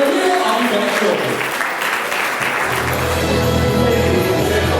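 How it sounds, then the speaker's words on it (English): Steady applause from a crowd at a professional services awards dinner fills the clip, dense and continuous, with a low hum and murmur underneath. "A nice round of applause."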